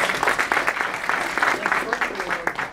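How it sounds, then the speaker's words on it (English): A small audience at a robotics club meeting claps for a few seconds, the applause dense and even at moderate level with faint voices underneath. "Come on, that deserves applause."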